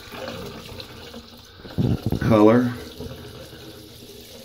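Leftover liquid poured into a bathroom sink drain, a brief gurgling, bubbling splash lasting about a second, preceded by a short burst of louder noise and set against quiet room background.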